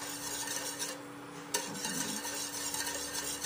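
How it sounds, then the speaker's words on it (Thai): A spoon stirs thickening young coconut cake mixture made with coconut flour in a pot on an electric stove, giving a steady, close scraping and swishing with a faint sizzle and no talking. "คนไปเรื่อยๆค่ะ"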